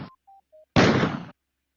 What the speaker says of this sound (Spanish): También creó los sonidos que corresponden al disparo.